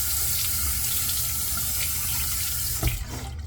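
A bathroom tap runs into a sink for a rinse after shaving, a close, steady stream of water with a brief splashy surge near the end.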